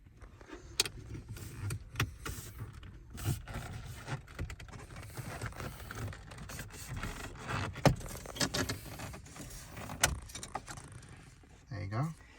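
Plastic dash trim held by clips is pried off a Toyota Kluger, with scattered plastic clicks, creaks and snaps over a quiet background and brief soft handling noises.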